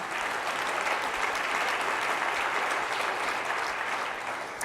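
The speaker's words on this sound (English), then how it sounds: "I know funding usually gets a clap, right?" An audience at an education summit's opening remarks applauds, an even, sustained roar of clapping from a large room that continues steadily throughout with no voices over it.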